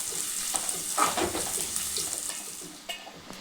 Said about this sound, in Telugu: పుదీనా మెంతి కూర మంచి బ్రౌన్ కలర్ రావాలి